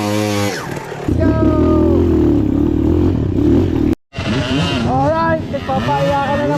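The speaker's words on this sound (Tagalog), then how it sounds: "nagpapaiyakan na ng mga makina dito" Trail motorcycle engines rev loudly and continuously on a Sunday trail ride at Blue Rock, with rising and falling pitch sweeps, one brief cut near the middle, then more revving up close.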